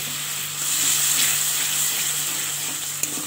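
Water poured into a pan of ground spice paste with poppy seeds and turmeric sets off a steady, loud sizzle and bubbling, with a brief clink near the end.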